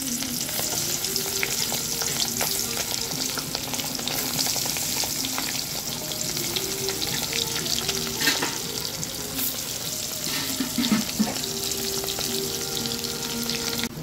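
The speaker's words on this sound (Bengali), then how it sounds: "ফুলকপি দিয়ে ট্যাংরা মাছ রান্নার জন্য ট্যাংরা মাছগুলোকে আমি ভেজে নিচ্ছি" Tangra fish fry in hot oil with a steady, loud sizzle and crackle that runs without a break, with occasional scrapes and stirring clatter from a utensil in the pan.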